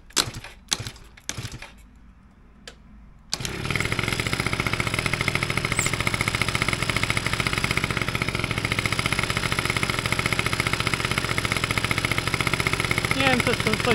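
An engine fitted with a counterfeit Dellorto carburetor gives a few sharp clicks and knocks, then starts and settles into a loud, steady, rapid idle that runs to the end.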